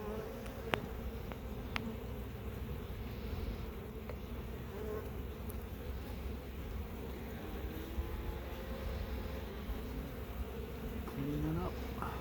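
Honey bees drone steadily at an open hive during an inspection, a continuous buzzing hum that fills the whole stretch with a few faint knocks and handling sounds over it.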